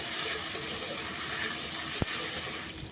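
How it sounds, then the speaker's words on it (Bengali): Green peas fry lightly in a pan with a little asafoetida, giving a soft, steady sizzle with one brief clink partway through. "এবার একটু হালকা ভাজা ভাজা করে নেব"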